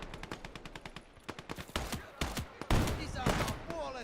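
Rapid gunfire in the Finland campaign of Gates of Hell: Ostfront, a quick train of sharp cracks followed by heavier, irregular shots and a loud blast, close and crisp.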